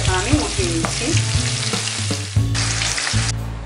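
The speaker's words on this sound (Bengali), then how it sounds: "ভেন্ডিগুলো ভাজা হতে আমার 5 মিনিট সময় লেগেছে, এখন আমি উঠিয়ে নিচ্ছি।" Okra fries in hot oil, a loud, close, continuous sizzle with scraping and clinking as the pieces are stirred and lifted out.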